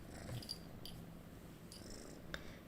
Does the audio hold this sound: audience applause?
no